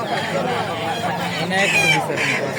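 Roosters and chickens cluck and squawk amid a busy traditional poultry market, with people talking loudly close by throughout.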